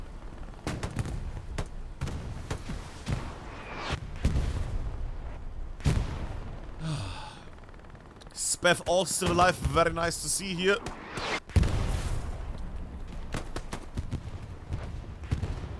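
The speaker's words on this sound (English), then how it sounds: "I heard more explosions in the south there." Explosions and gunfire in the World War II shooter Hell Let Loose, with booming blasts and scattered shots rumbling at varying distances beneath steady spoken commentary.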